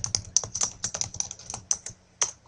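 Typing a document title on a computer keyboard produces a quick, uneven run of crisp, close key clicks that pauses briefly near the end before a final tap, with no voices.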